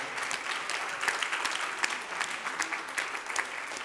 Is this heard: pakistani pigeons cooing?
no